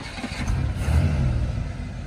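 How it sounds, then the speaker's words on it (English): An Oldsmobile Cutlass engine revs briefly, a close, loud low rumble that swells and then holds steady. "You might have to give it some gas."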